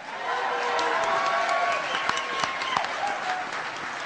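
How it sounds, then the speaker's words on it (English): Lecture audience at a symposium on 9/11 theories gives loud, sustained clapping that fades slightly, with a few sharp individual claps and faint voices near the end. "Thanks for all the applause, folks."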